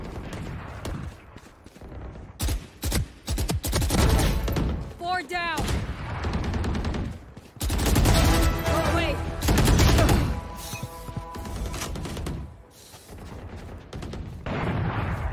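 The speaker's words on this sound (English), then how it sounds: "You just need to shoot." Gunfire in the Valorant video game during a deathmatch, with repeated bursts of shots and impacts coming in clusters, heard under ongoing talk from a player.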